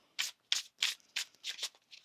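Tarot cards shuffled by hand in a quiet room, a quick series of about seven crisp riffling bursts, close and alone with no talking.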